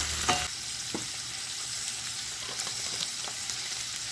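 Shrimp and beans sizzle and fry in a pan while being stirred, a steady hiss with scattered light clinks and scrapes of the utensil, moderately quiet and close.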